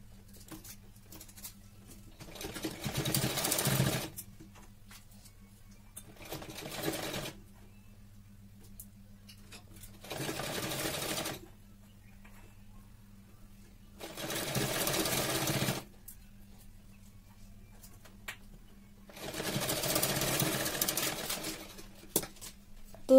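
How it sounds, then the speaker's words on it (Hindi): A sewing machine stitches piping onto a simple blouse in five separate bursts, each a few seconds long, with quiet pauses between them and a steady low hum running underneath. "तो अपन इस पर सिलाई कर लेंगे।"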